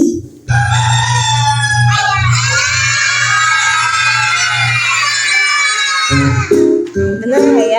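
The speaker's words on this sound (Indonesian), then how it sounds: "Ini adalah suara ayam jantan." A rooster crows one long, loud, drawn-out call that fills most of the moment, followed by a few short, brighter bursts of sound at the end.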